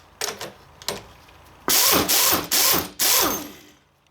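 Impact wrench hammering off a strut nut on a 2002 Mitsubishi Lancer during a coil spring job: a few light taps, then four loud, close rattling bursts separated by short pauses.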